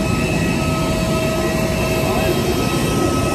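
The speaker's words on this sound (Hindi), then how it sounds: "यहाँ पे आवाज आपको बहुत कम आता होगा क्योंकि यहाँ का प्लेन का इंजन का आवाज इतना ज्यादा है" Jet airliner engines roaring close by on the tarmac at Delhi airport, a loud continuous whine and rumble that fills the whole clip.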